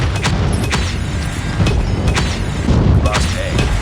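Airstrike explosions in Call of Duty Mobile on the Shipment 1944 map during a 10v10 Domination match: loud, close booms and sharp blasts in quick succession over constant battle noise.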